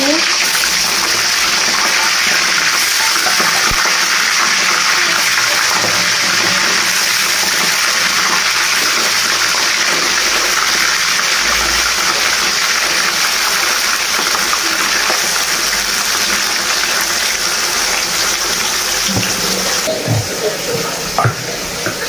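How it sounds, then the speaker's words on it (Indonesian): Tofu fries in hot oil in a home kitchen, giving a steady, dense sizzle and crackle that carries on unbroken and fairly loud throughout, with a few faint clinks near the end. "Lanjut kita goreng tahu."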